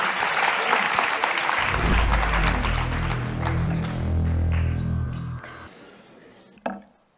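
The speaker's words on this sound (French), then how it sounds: "Vous pouvez encore applaudir Kevin parce que c'est très dur de commencer." Audience applause at a student eloquence competition fills the first half, broad and steady, then fades out with a brief sharp clatter near the end.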